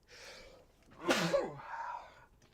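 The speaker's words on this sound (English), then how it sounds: "I'm going to sneeze." A single close, sharp human sneeze with a short breathy intake before it and a softer exhale after, heard during a card game talk show with no other sound around it.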